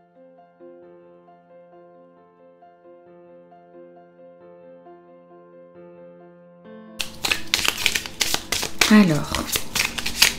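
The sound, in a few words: shuffling tarot cards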